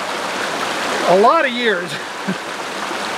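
A stream runs over rocks, mosses and gravel with a steady, close rushing hiss that continues throughout, while a voice speaks briefly over the water.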